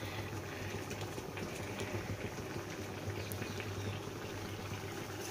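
Garlic-and-spinach gargat curry simmers in a pot with tamarind and jaggery, a soft, steady bubbling and gentle popping, close but quiet and continuous with no talk.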